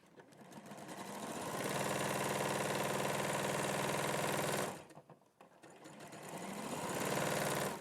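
A domestic sewing machine stitches quilt pieces down one side, a steady fast mechanical whir that runs continuously for several seconds, briefly stops, then starts again, close and loud with no talking.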